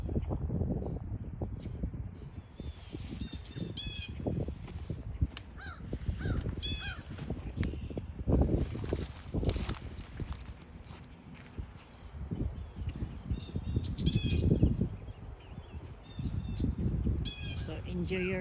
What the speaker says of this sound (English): Birds are coming around, increasing our energies.